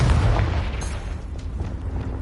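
A Confringo fire spell explodes in the video game Hogwarts Legacy with a loud, rumbling boom at the start that fades into a low, crackling roar of debris and noise.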